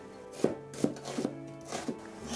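A knife chops through yellow bell pepper on a cutting board, slicing it into long strips, with four or five distinct crisp cuts at a steady, unhurried rhythm, close and clear with no talking.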